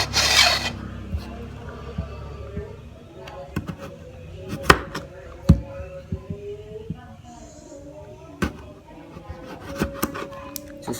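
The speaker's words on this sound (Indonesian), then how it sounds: "kentang kita potong bagian atas dan bawahnya" A knife slices the top and bottom off a potato, giving sharp scattered cuts and scraping rubs, close and moderately loud, with handling noises between cuts.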